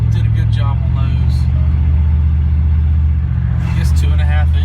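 A Ford Lightning pickup truck fitted with aftermarket mufflers idles with a loud, deep, steady engine rumble, and someone talks over it near the start and again near the end.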